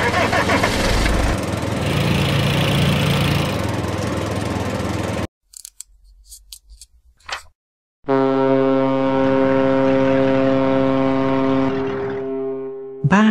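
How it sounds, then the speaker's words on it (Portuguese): A tractor engine rumbles steadily at first, then after a short gap a deep, droning motor hum with a strong tonal buzz continues. "trator."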